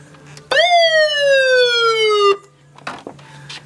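A police-style siren, wired to a Rockford T602 amplifier in a truck, blares loud and close as a single long descending wail of about two seconds, then cuts off, leaving a few knocks and background noise.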